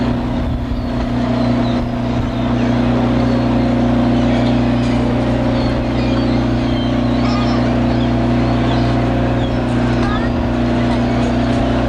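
A steady, loud motorboat-style engine drone hums continuously from a theme park boat ride on a lagoon at Disney's Magic Kingdom in 1990, with people chattering faintly underneath.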